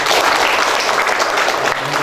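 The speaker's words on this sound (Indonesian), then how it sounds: "Tepuk tangan untuk beliau." A student audience at a new-student orientation claps loudly and continuously for a guest speaker, a close, dense burst of applause that fills the room.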